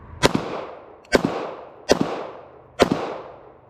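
Four shots from a Ruger Security 380 pistol, sharp loud cracks spaced under a second apart, each with a decaying echo that fades before the next shot.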